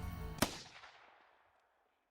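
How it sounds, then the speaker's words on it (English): A single sharp gunshot in the Steins;Gate visual novel, cutting through a sustained musical tone and leaving a long reverberant tail that fades over about a second. "There really was a gunshot."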